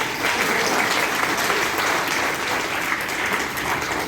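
Sustained, dense clapping from an audience at an Arya Samaj gathering in Vivek Vihar, steady and fairly loud throughout with no pauses.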